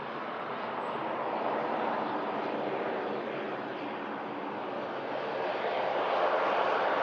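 A Loganair ATR turboprop landing with a bounce before settling, its engine and propeller noise a steady broadband roar heard from a distance, rising slightly toward the end, with no voices.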